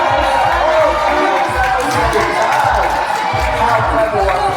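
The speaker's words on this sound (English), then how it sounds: "Come on guys, let's cheer for Azul." A bird show audience at Ocean Park cheers for Azul the macaw, loud and steady crowd noise with shouts and a presenter's voice over the top.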